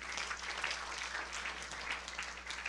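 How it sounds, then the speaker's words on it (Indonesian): Church congregation applauding during a sermon, a steady wash of many hands clapping together, moderately distant and even throughout with a faint low hum beneath. "Yang setuju berikan tepuk tangan yang meriah."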